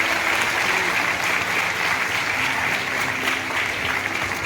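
An audience claps loudly and steadily at a Marathi film music launch ceremony for Dharmaveer 2, forming a dense, sustained wall of applause that never lets up.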